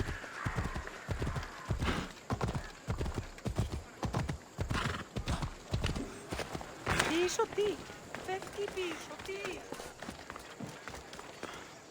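Horse hooves clip-clop at a steady gallop in Assassin's Creed Odyssey, loud and close with rhythmic strikes throughout, a whinny partway through, and voices talking over the riding.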